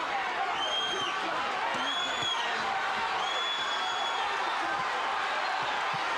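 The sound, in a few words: boxing crowd cheering for Nunn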